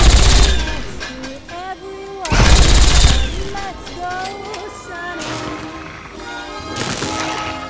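Rapid bursts of turret gunfire and booming cannon shots in Fallout 3 ring out over busy electronic effects and music, loud and chaotic throughout.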